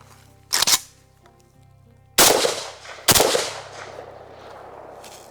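Three sharp, loud AK47 rifle shots ring out close by, spaced irregularly, each leaving a short fading echo, with no talking.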